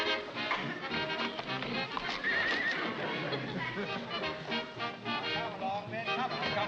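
Horses whinny and neigh repeatedly, with hooves clip-clopping beneath, loud and close and filling the whole stretch.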